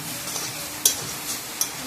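Pointed gourd and long-cut potato strips fry in oil with salt and turmeric, a close, even sizzle broken by a couple of sharp spatula scrapes against the pan.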